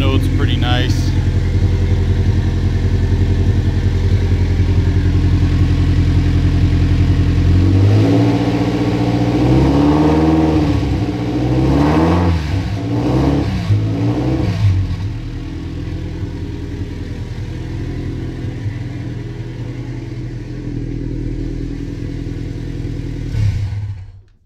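A Subaru engine swapped into a VW Beetle revs repeatedly, its throaty exhaust note rising and falling in several loud bursts close by, settling into a steady idle before cutting off.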